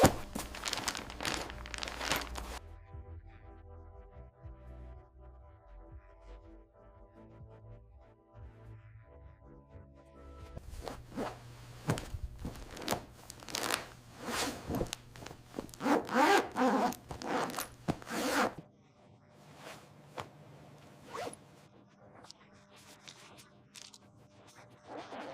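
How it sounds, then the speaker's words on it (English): A leather shearling jacket is placed into a premium zippered garment bag, with repeated close zipper runs and crinkling, rubbing bag material between pauses. "Each jacket is placed into a premium garment bag, fully protected before shipment."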